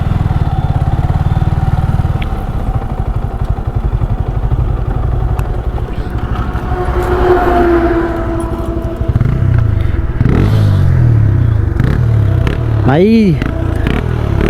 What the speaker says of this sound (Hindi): क्या साउंड आ रहा है भाई तेरे बाइक से?